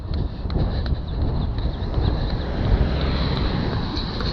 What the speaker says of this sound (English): That is the wind that you can probably hear now on the microphone.